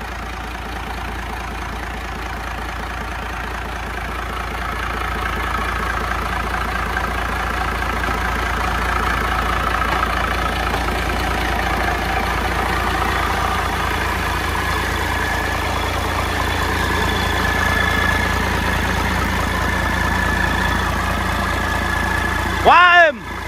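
A Cummins L375 diesel engine idles smoothly with a steady, even mid-low drone, while people talk nearby; a brief louder noise comes near the end.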